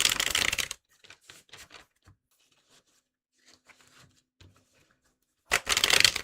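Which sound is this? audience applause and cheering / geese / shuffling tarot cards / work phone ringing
shuffling tarot cards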